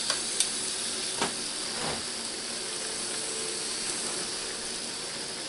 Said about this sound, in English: we're taking a look at our shrimp, and I'm just going to start turning it